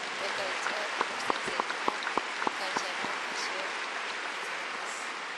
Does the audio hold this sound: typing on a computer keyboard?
no